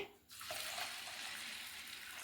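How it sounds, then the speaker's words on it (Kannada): Water pours steadily into a container of washed grains set to soak for dosa batter, after a brief quiet start, a continuous close splashing rush that holds to the end. "ಇದಕ್ಕೆ ನೀರು ಹಾಕಿ ನೆನೆ ಹಾಕ್ತಾಯಿದ್ದೀನಿ."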